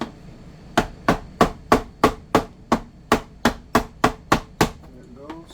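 A part is knocked loose from a Hilti TE 3000 electric jackhammer during disassembly, heard as a dozen evenly spaced, sharp close hammer blows in a steady rhythm that stops abruptly.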